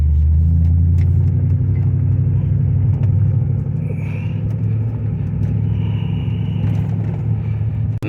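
Toyota Tundra pickup truck cruising on the road, a steady low engine and road rumble holding loud and constant throughout with no voices.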